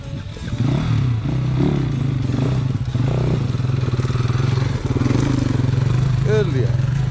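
Gas Gas 300 two-stroke dirt bike roaring at full throttle on slippery rocky terrain, a loud, sustained buzzing engine note close by with someone shouting over it.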